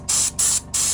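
Primer sprayed from a can onto hobby models in three short, loud bursts of hissing spray with brief gaps between them.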